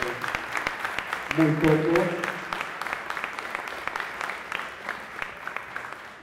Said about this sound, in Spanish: para quien también pido un aplauso